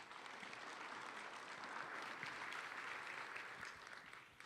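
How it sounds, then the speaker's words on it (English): Sustained audience applause at a county education event, a dense steady wash of many hands clapping from a moderate distance, holding evenly for several seconds before tapering slightly at the end. "Let's give her a nice round of applause."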